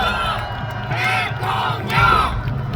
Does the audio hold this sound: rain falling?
no